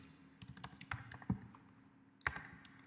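Typing on a computer keyboard at a terminal: quiet, close key taps in an uneven rhythm, with a few sharper louder clicks standing out, no voice.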